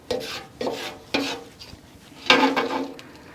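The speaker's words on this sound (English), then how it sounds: "kind of squeezing it down a little bit through the slotted spoon" Cooked hamburger meat is pressed down with a slotted spoon in a pan, giving four separate scraping, rasping squishes at irregular intervals, close up, with no talking.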